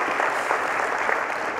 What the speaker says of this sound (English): Clap, yeah, great.